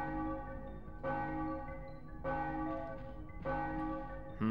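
Bells ring in the video game Gex: Enter the Gecko, three deep church-like tolls struck in a slow even rhythm, each ringing out and fading, faint and alone.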